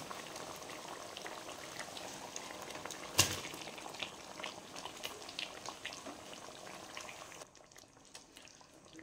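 Butter paneer gravy bubbles quietly in a covered pan, a soft steady simmer with one sharp knock partway through and faint clicks scattered across it.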